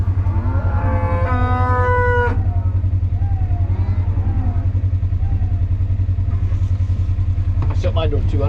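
Cattle mooing on a farm, several drawn-out calls near the start over a loud, steady engine rumble from a vehicle cab, with people talking.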